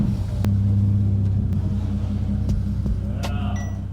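A Nissan Stagea project car's engine turns over and settles into a steady, low rumbling idle, close and continuous with a few faint clicks and knocks over the drone.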